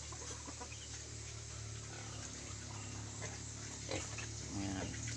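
A pig eats its feed in a rural farm setting, with faint grunts and munching, chickens clucking nearby and occasional soft rustling and clatter.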